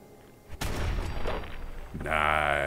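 Gunfire from the video game Fallout 4 gives a sharp, loud shot followed by a dense burst of noise and a tonal game effect, all close and prominent.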